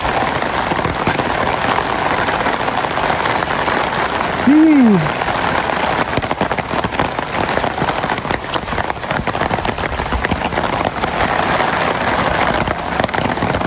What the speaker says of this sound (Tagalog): Aga-aga na ulan.